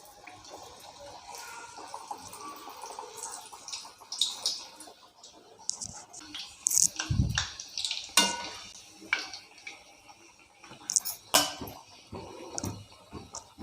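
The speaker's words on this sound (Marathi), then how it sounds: "कडबू हे तळून घेऊया" Mango-flavoured kadbu dumplings sizzle in hot oil, a soft, continuous bubbling hiss broken by clinks and scrapes of a utensil against the pan, growing busier in the second half.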